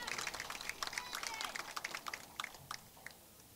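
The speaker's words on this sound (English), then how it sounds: "Give a round of applause for Coleman" A crowd applauds and cheers at a summer-league baseball championship celebration, a steady spread of clapping that thins toward the end, heard from a moderate distance with some talk mixed in.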